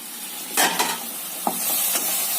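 Carrot halwa with sugar cooks in a pan over a medium flame while it is stirred, giving soft scraping strokes over a continuous close sizzle.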